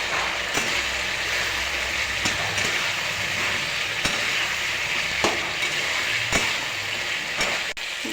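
Fried potatoes and mukhi kochu (taro) tipped into hot spiced oil give a steady, close sizzle across the whole stretch, with a few sharp clatters of stirring scattered through and no talking.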